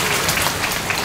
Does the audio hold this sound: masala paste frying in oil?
no